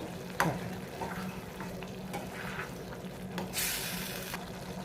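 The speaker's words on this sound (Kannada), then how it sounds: "ಈ ಥರ ಹಿಂಗೆ ಕುದ್ದು ಬೇಯಬೇಕು ಚೆನ್ನಾಗಿ" Spicy chilli-powder chutney with jaggery bubbles and simmers in a pan, a faint close sizzle with soft pops and a few sharper stirring clicks, one brighter hissing surge near the end.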